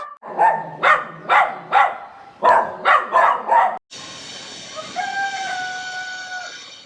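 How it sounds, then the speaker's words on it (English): Dogs bark in a quick series of sharp, loud barks in a small Spanish town, pause briefly, then bark again before a steady mechanical drone takes over. "the only things that get angry with the visitors coming to these towns are the dogs"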